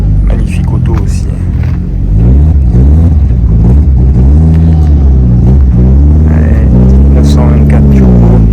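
A Porsche 924 Turbo rally car at the Tour de Corse Historique 2023 roars loudly close by, its engine revving and rising and falling in pitch as it passes, with voices talking over it.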